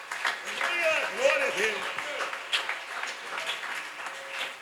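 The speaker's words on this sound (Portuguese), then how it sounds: "Quem pode aplaudir a Jesus, aplaude a Ele bem forte." A church congregation applauds during a Portuguese-language evangelical service, steady clapping from a crowd heard under a preacher's continuous amplified speaking.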